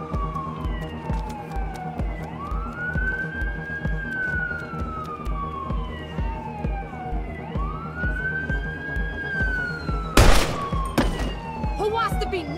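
Police siren wailing in GTA 6 gameplay, two long rising-and-falling sweeps over a busy game backdrop, with a sharp burst of gunfire or impact near the end and voices speaking throughout.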